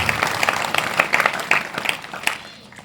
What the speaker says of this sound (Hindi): एक बार इनके लिए जोरदार ताली बजा करके